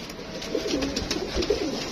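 A Rampuri pigeon coos close by, giving a couple of soft low rolling calls over a faint background hum.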